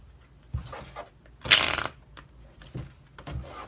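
Tarot cards being shuffled by hand, a few soft riffles and taps with one louder burst of flapping cards near the middle, close and without talk.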